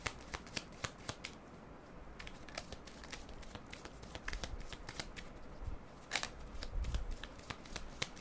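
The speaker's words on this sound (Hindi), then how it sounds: "बट फिर भी मैं एक कार्ड निकालूंगी।" A deck of tarot cards is shuffled close up, with a steady run of crisp riffles and flicks and a few sharper snaps as cards are drawn.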